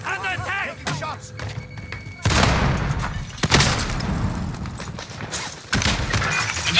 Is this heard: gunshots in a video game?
yes